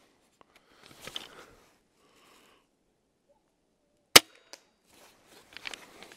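A single sharp, loud snap of a Cobra Adder pistol crossbow firing, followed by a faint click, with soft rustling and handling noises before and after.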